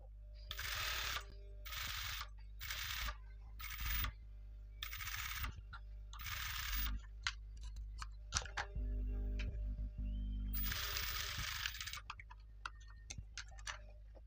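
A sewing machine stitches a fabric edge in short bursts of rapid ticking, several quick runs in a row and then a longer run near the end, with handling clicks in the pauses. The sound is close and moderately quiet.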